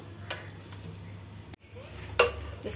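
Chicken, about one and a half kilos, being stirred into a yogurt marinade in a pot with cold oil, giving soft scraping and a few clinks of a spoon against the metal, fairly quiet with a sharper knock near the end.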